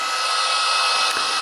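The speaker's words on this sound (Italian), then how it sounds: "poi vedete c'è anche il suono del phon." A hair dryer sound played from a baby sleep app gives a loud, steady airy whoosh with a constant hum, heard close and alone for about a second and a half before cutting off.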